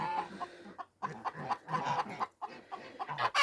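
A hen clucks and grumbles in a backyard nest area where other hens are sitting, a series of close, irregular clucking bursts separated by short pauses.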